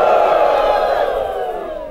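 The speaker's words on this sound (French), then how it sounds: "Applaudissons. Applaudissons. Applaudissons." A church congregation roars in a loud sustained collective shout of acclaim that gradually fades over a couple of seconds.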